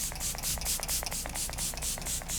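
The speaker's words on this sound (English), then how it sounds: "I'm gonna spray this Lancome Fix It," Repeated short pumps of a Lancome Fix It, Forget It makeup setting spray, a fine misty hiss pulsing in a quick, even rhythm, close and fairly loud.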